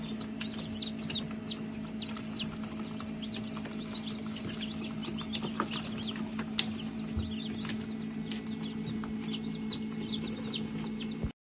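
Chickens cluck close by, giving frequent short calls over a constant low mechanical hum. No one talks.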